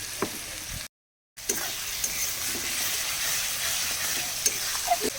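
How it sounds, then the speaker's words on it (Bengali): Masala of chopped tomato, green chilli, salt and chilli powder being sautéed in a pan for a homestyle chicken curry: a steady close sizzle with stirring scrapes and taps, broken once by a short silent gap. "মশলাটা ভালো করে কষানো হয়ে গেছে।"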